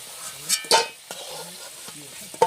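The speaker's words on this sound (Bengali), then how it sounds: "আলুটা নাড়াচাড়া করে লাল লাল করে ভেজে নিয়েছি" Potato pieces fry in hot oil in a pan with a soft crackling sizzle, interrupted by sharp scraping and clacking stir strokes, while a faint voice murmurs underneath.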